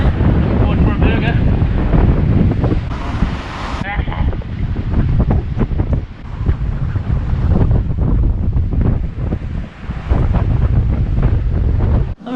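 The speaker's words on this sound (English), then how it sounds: "a massive wave just splashed over the deck" Strong wind buffets the microphone aboard a sailing boat at sea. Waves surge and crash against the hull in rough water, loud and continuous, with a heavy splash early on, and a voice is briefly heard.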